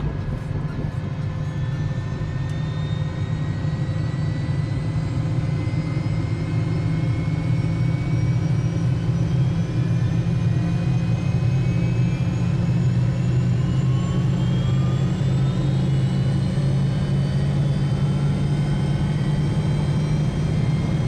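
Helicopter turbine in MSFS 2020 spooling up on start, a steady loud whine with rising tones over a deep continuous rumble, building gradually for about twenty seconds with no talk.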